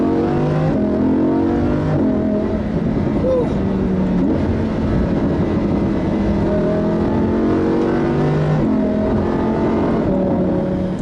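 A Lamborghini Huracan LP610-4 accelerating hard, the engine note climbing through several gear changes over a steady, loud drone, with a person talking over it.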